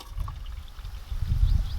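Hot water pours into a coffee cup made with an AeroPress at a campsite, a short close trickle that swells louder toward the end.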